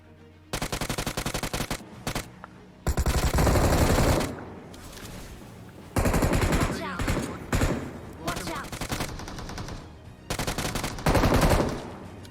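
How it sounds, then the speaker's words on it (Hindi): Gunfire from the BGMI (Battlegrounds Mobile India) battle royale game, with loud bursts of automatic fire and volleys arriving in several clusters, interrupted by short quieter gaps and some speech. "दूसरी तरफ से ना फायरिंग के साउंड आ रहे थे"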